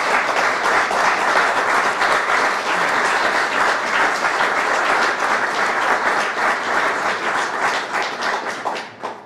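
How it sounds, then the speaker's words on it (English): Loud, sustained applause fills a Saginaw County Sports Hall of Fame induction ceremony for inductee Dale Brown, a thick continuous clapping crowd that fades away at the very end. "Could I have a round of applause for Dale Brown?"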